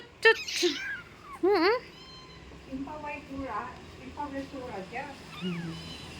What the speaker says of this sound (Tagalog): yung mga mga pusa ko. Mga kuting.